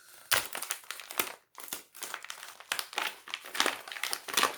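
Bubble wrap packing film crinkles and crackles as a birthday gift is unwrapped, loud close bursts of rustling in an uneven rhythm, with a brief pause partway through and no talking.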